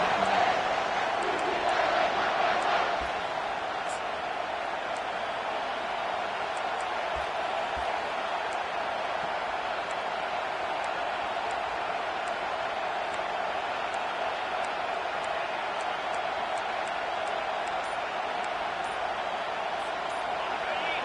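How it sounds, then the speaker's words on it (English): A large football stadium crowd on a third-down play roars loudly and continuously for about twenty seconds, a dense, steady wall of cheering and shouting. "Decibels rising as the crowd gets behind this defense on third down."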